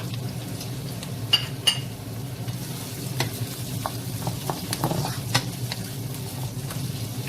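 Ginger sautéing with already cooked onion in a pan for a pinakbet dish, a steady close sizzle broken by repeated clinks and scrapes of a utensil stirring against the pan.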